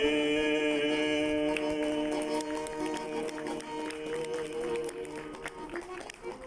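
Audience applause for a singer after his song, scattered claps building over the fading music and continuing steadily to the end.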